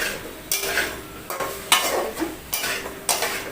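Vegetables and ghee go into a hot pan and get stirred, rhythmic scraping strokes about every half second over a soft sizzle, close by with no talking.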